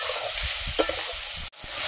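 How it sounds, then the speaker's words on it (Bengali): Onions and tomatoes with salt and turmeric frying in a pan for a village-style latha fish curry, a steady close sizzle with a few stirring scrapes and knocks, no talking. "টমেটো আর পেঁয়াজগুলো লাল লাল করে ভাজি নেব।"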